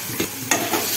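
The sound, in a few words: frying and stirring fenugreek leaves in roasted gram flour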